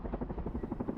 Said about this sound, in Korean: 강력한 물대포를 쏘아대는 이 헬기는 S-642 기종으로 담수량이 8톤 가까이 됩니다.